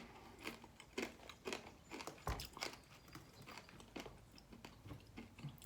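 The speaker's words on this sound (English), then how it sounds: "this is not a good snack to talk through. Loud," Loud, crunchy snack being chewed close up, a run of sharp irregular crunches and bites repeating every half second or so, with no talking over it.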